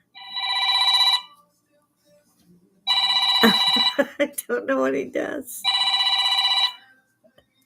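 A loud phone ringtone from a potential spam call rings in three bursts of repeating electronic tones, and someone talks between the second and third bursts.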